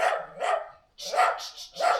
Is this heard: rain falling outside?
no